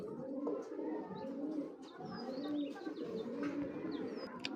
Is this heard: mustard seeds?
no